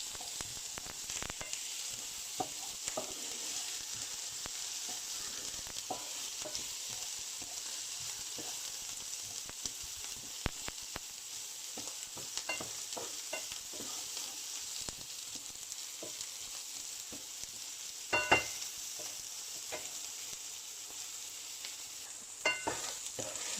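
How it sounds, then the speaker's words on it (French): Onions sizzle and fry in a pan, a steady crackling hiss with scattered pops and occasional scraping stirs, close and continuous with no one speaking. "je vais commencer par mes oignons"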